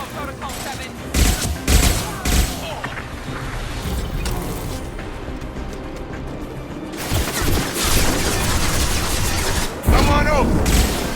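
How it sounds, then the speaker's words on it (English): Sustained suppressive gunfire in a Mass Effect 2 firefight, bursts of rapid shots and heavy impacts coming in waves, loud and close, with a few short spoken words mixed in. "Protocol 4, deploy suppressive fire."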